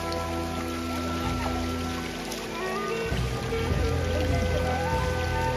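Water from the Athi Oothu mountain spring trickles and flows steadily on a Sathuragiri trek, a soft continuous babble with no voices.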